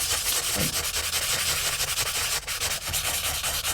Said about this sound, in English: You could probably use something less abrasive than sandpaper.